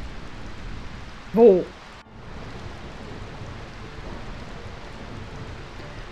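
Rain falls in Final Fantasy IX as a soft, steady hiss of moderate loudness, with one brief spoken word breaking through early on.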